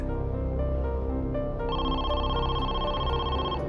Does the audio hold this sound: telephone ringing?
yes